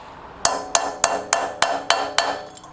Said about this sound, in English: put the socket on top, and then just lightly tap the socket and try to get it in evenly